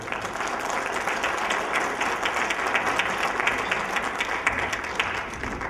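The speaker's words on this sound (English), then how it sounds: "give them and everybody a particularly warm round of applause" A warm round of applause from the audience at the Jaipur Jewellery Show, a continuous crowd-wide clapping with a fairly even texture and small swells throughout.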